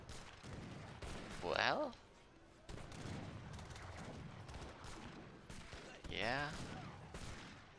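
Musket volleys crackle in the Age of Empires III: Definitive Edition strategy game, a fusillade of quick gunfire bursts at low level beneath a commentator's voice.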